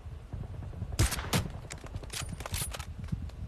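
Rapid bursts of gunfire in the video game Newstate crackle over a steady background, a cluster of sharp shots followed by lighter scattered pops.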